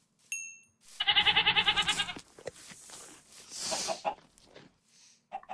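Minecraft goat bleating in a video game, a loud, stuttering run of rapid bleats lasting about a second, followed by quieter game sounds and a short final call.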